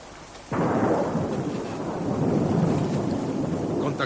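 Steady rain and rumbling thunder set in abruptly after half a second, then continue as a loud, dense storm wash.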